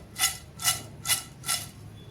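Crisp fried sweet potato wafers, homemade, being handled, giving four evenly spaced crackly crunches, close and fairly loud, with no talking.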